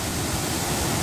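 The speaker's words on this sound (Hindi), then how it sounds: "यह बाल सपंदर का झरना," Waterfall on the Vagur river near the Ajanta mountains, running low, heard as a steady broadband rush of falling water, close and fairly loud, with no one speaking.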